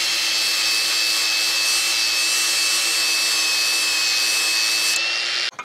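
Welding on a small tractor clip shear attachment, powered by a Bluetti AC200P, gives a close, steady, unbroken crackling hiss that holds evenly for several seconds before cutting off abruptly near the end.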